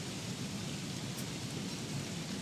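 Steady, dense rain hiss from the video game Don't Starve fills the whole clip, an even wash of noise with no breaks and no voices.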